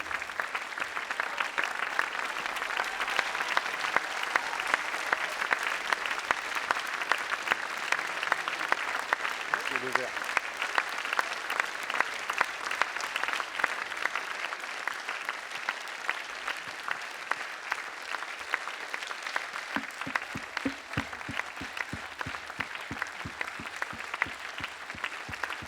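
A festival audience in Angoulême applauds a film director after a screening, sustained loud clapping from a large crowd lasting the whole stretch, with a brief voice or two beneath it.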